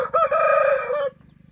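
A rooster gives one loud, close crow lasting about a second, then fades into faint clucking from nearby fowl.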